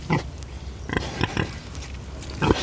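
Pigs on a farm grunt and snuffle in several short bursts, close and fairly loud, with quiet breathing and rustling in between.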